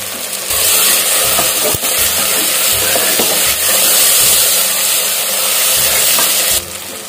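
Coriander and mint sautéing in a pan for donne biryani, a steady loud sizzle with stirring scrapes running throughout, no talk.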